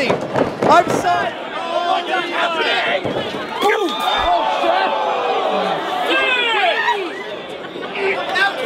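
Wrestling crowd chattering and cheering loudly as fans rush the ring around their champion, with dense overlapping voices, shouts and a few bangs throughout.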